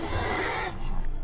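A horse in Skyrim lets out a short, loud whinny as it dies, then the sound breaks off into quieter game noise.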